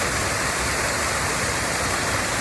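Waterfall carrying a large flow of water, heard as a dense, continuous rushing roar up close, loud and unbroken, with no talking over it.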